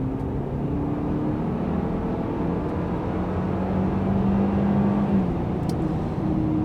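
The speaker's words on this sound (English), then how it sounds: "Let's just build a small gap to this Subaru in front of us and mash the throttle and see" Steady road roar and engine hum from a 2019 Range Rover Sport P400e plug-in hybrid under hard acceleration on a highway, a continuous drone with a faint rising tone, no talk.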